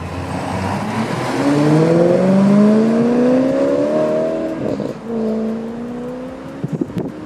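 A Maserati car revs up through rising gear-like tones and pulls away smoothly, loud and close, easing off near the end.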